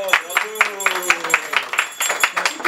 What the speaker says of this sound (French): On va applaudir, c'est bon.